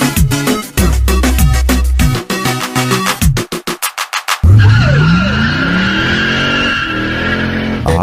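Race car tires skidding and squealing, a loud sweeping screech amid engine roar and booming music in a sound-system competition mix, after a stretch of pulsing bass beats.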